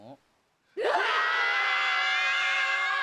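Animated One Piece characters on a boat let out one loud, long group scream after a short near-silent pause, and it holds at full strength to the end.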